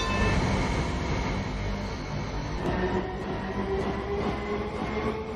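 A light rail or metro train in a video game runs on route 762 to Toi Toi, giving a steady rolling rumble with faint wheel clicks and a thin motor whine, close and continuous without talk.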